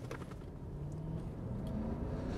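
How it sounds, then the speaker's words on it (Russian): A Lexus LX570 SUV accelerating, its engine giving a steady, close low drone with a faintly rising tone that holds throughout, with no talk. "тачка срывается очень хорошо"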